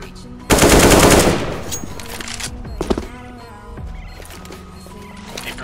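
A loud burst of rapid automatic gunfire in a competitive first-person shooter game lasting about a second, followed by fainter clicks and mechanical clatter.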